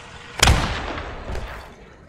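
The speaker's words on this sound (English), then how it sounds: "We're getting shot at." A single heavy gunshot booms in the Post Scriptum video game, sharp onset and a long rolling tail, loud and close with a fainter echo following.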